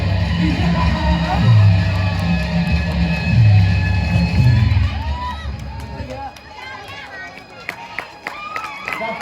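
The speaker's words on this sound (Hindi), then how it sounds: "जोरदार तालियां, बहुत ही सुंदर से।" Crowd cheering and clapping at an outdoor Ramleela stage performance, a dense roar with a low rumble for about five seconds that fades into scattered claps and chatter.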